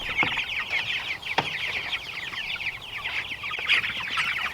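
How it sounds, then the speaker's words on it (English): Chickens clucking in a fenced pasture: a continuous chatter of bright, overlapping clucks and calls at moderate distance, broken by a few sharp knocks. "Oh, there was a chicken under the bucket."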